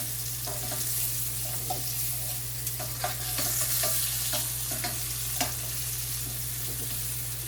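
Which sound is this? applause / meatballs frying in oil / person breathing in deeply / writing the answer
meatballs frying in oil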